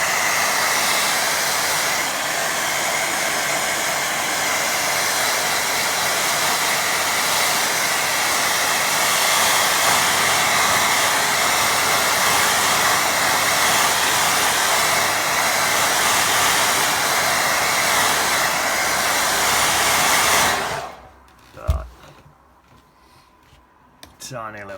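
A hair dryer blows steadily on a watercolour painting of a sky, a loud, continuous close whoosh for about twenty seconds before it cuts off abruptly, leaving brief handling knocks.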